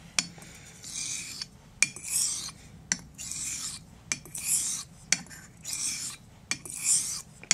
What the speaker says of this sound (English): torquing the razor into the stone